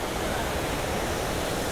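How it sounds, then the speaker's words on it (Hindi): Dhuandhar Falls roars steadily as water pours down, a dense, constant broadband rush filling the scene with no pauses or voices. "क्या पानी गिर रहा है यार, झरना देख रहे हो।"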